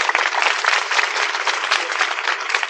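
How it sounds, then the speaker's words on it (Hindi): An audience at a spiritual talk on the Gita claps steadily and densely throughout, a continuous wash of applause with no pauses. "सुख ताली मार दो, सुख।"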